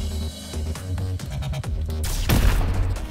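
Missile fire and a blast in the Starward Rogue video game: rapid clattering shots and rumbling booms build to a loud, broad explosive burst near the end, with no talking.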